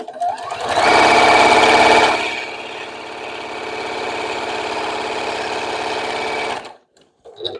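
A sewing machine stitching a row of selvage quilt pieces runs loudly up close, with a fast burst followed by a steadier, slightly quieter stretch of whirring before it stops abruptly.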